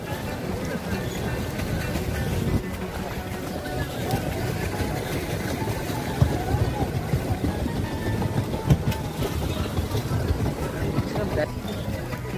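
A boat glides on the water near Thirparappu waterfalls in Kanyakumari, Tamil Nadu. A continuous low rumble of water and wind runs throughout, with people talking faintly beneath it.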